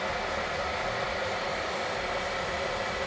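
Salter iridescent electric kettle heats water with a steady, fairly quiet broadband rushing hiss that holds constant throughout, with no talking.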